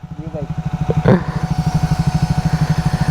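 A brand-new motorcycle engine idles close by with a fast, even putter, and a brief voice and short noise cut in partway through.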